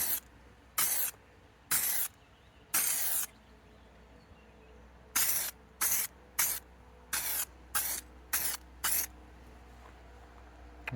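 Aerosol spray paint going onto a 30-year-old truck bed in thin coats: a series of short, sharp hissing bursts, some longer and some quick in rapid succession, close up against a quiet background.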